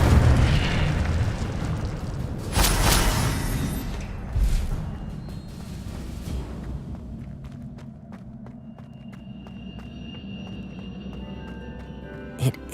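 An Incendio fire spell is cast in the video game Hogwarts Legacy, giving a loud whooshing, booming burst of flame over a continuous rumbling game soundscape, followed by lighter ringing effects.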